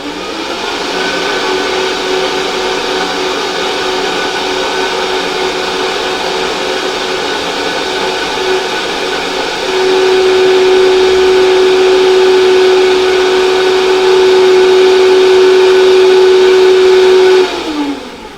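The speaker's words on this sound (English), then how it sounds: "Wow, Chef, that's a serious blender" A powerful kitchen blender whirs loudly and steadily for a long stretch, blending beef with oil and vinegar for a dressing, its high motor whine rising in pitch partway through before cutting off.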